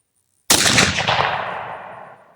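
A single sharp, loud rifle shot from a .270 Winchester firing cast bullets, cracking suddenly out of silence and followed by a long echoing rumble that slowly fades outdoors.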